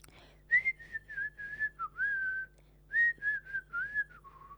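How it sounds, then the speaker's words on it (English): A person whistles a tune up close in a series of short bright notes and phrases, fairly quiet against a silent room. "That's my whistle."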